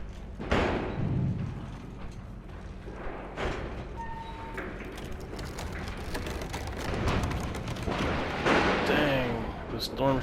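Storm shutters bang in a storm in a video game, with several loud irregular thuds and slams scattered across a windy background and a voice speaking between them.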